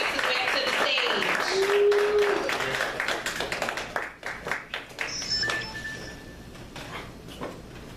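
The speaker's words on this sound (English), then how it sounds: "So everybody give a warm round of applause as he makes his way up to the stage." Audience at an open-mic poetry and music night applauds an arriving performer, a dense burst of clapping with cheering voices that thins into scattered claps and light clinks as it dies away.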